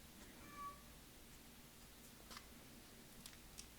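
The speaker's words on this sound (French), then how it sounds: "si vous entendez mon chat qui miaule" A cat meows once behind a door, a faint, muffled cry in an otherwise quiet room, followed by a few soft ticks.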